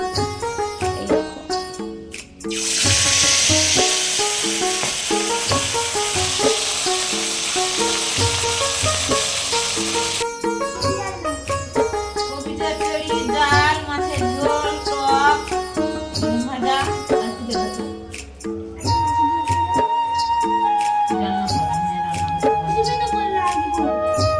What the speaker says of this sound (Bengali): এদিকে গ্যাসে কড়া থেকে তেল দিয়েছিলাম সেটা গরম হয়ে গেছে এবার মাছগুলো একটা একটা করে ছেড়ে দেবো